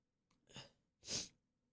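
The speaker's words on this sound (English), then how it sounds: "I have to sneeze again." A sneeze, a faint breathy intake followed by a short, sharp burst of breath, quiet and close with nothing else around it.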